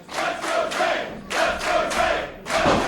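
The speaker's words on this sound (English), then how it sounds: "you hear all these people chanting for you, cheering for you" A wrestling crowd at a Prestige show chanting in rhythmic bursts and cheering, loud and dense, with swells of voices rising and falling in three waves.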